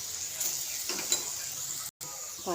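Gram flour sautéing in oil with spices for a radish dish, producing a steady soft sizzle with light stirring scrapes and a brief gap.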